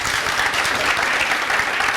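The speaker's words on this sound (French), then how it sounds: "bravo, acclamation pour les deux équipes" Steady applause from a studio audience or group, cheering both teams after a quiz round on a live talk show, dense and even clapping filling the whole moment without pause.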